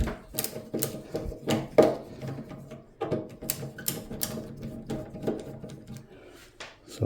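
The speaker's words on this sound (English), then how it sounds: "we can see there is some screws. So we'll start removing them." Screws are being removed from the bottom of a shop advertising display, producing a series of close, irregular clicks, ratcheting taps and mechanical rattles, with no talking over the work.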